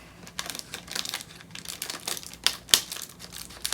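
Plastic packaging around fudge covered Oreos being cut open, a close run of crinkling and snipping with sharp crackles and rustles, one louder snap near the end, no voices.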